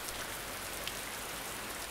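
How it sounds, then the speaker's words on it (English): Heavy rain pours steadily in a dense, even hiss of countless drops, with no voices. "the rain is getting heavier"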